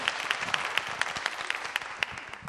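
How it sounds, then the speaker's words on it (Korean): Audience clapping along in a steady, regular beat on a Korean talk stage, crisp evenly spaced claps from many hands at moderate distance, with no talking over them. "자, 박수."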